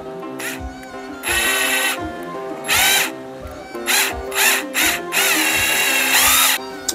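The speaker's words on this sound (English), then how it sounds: "I'm going to attempt to drill it out and see if I can preserve the handle and just remove the wedge." A power drill bores into the wedge of an old axe head, whining in several short, loud bursts of varying length separated by brief pauses, with the motor pitch rising and falling.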